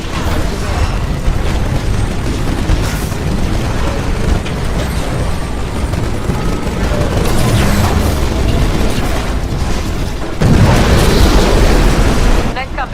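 Heavy cannon fire and explosions in the video game Titanfall form a dense, continuous barrage of booms and mechanical rumble, swelling into a louder blast near the end, with voices talking over the battle.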